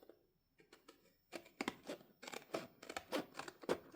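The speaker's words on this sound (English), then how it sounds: "you're just going to take your scissors." Scissors snip repeatedly up close, a quiet series of short crisp cuts growing more rapid, with no talking.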